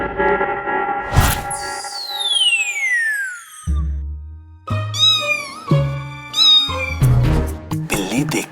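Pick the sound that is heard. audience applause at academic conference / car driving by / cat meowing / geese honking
cat meowing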